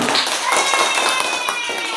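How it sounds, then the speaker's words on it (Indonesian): A classroom group gets a short burst of applause during a micro teaching session, with hands clapping close and loud over about two seconds. "Beri tepuk tangan dulu untuk kelompok"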